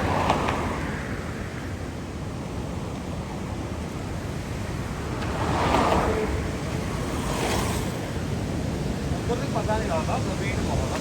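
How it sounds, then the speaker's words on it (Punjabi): The Sutlej river rushes fast and high beneath a bridge, with a constant broad roar of flowing water and wind buffeting the microphone. Someone talks over it. "ਸਪੀਡ ਪਾਣੀ ਦੀ ਬਹੁਤ ਆ ਸਪੀਡ ਕਹਲੇ ਆ ਬਹੁਤ ਸਪੀਡ ਆ"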